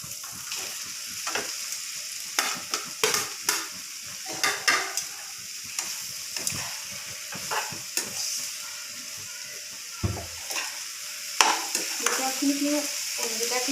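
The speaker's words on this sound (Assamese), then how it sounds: "জিকাখিনি মই এনেকৈ 2 মিনিটমান সময় ভাজি ল'ম" Ridge gourd frying with spices in a pan sizzles steadily while a utensil stirs and scrapes it in repeated short strokes, fairly close, with no talking.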